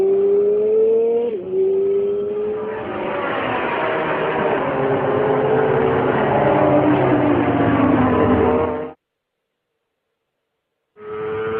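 Yamaha R6 motorcycle at racing speed on a track, its engine screaming loud and close with rising, shifting pitch through the gears, then cutting to a sudden silence of about two seconds before the roar resumes.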